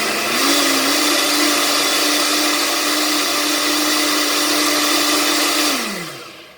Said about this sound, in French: Et là du coup, je vais mixer